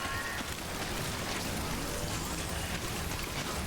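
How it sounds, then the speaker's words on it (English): Heavy rain in the game Death Stranding falls as a dense, continuous hiss of drops at steady loudness, with no voices over it. "Oh, it's raining a lot."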